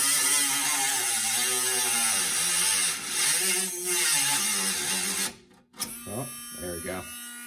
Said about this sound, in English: It's eating through that cutoff wheel or whatever you want to call it pretty quickly, though.